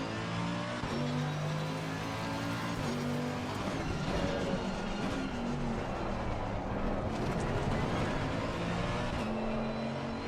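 Ferrari race car engine in a racing video game, a continuous high-revving whine with repeated rising and falling gear shifts, steady and loud throughout with no talking.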